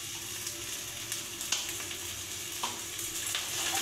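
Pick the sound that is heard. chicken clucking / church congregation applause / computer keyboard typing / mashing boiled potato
mashing boiled potato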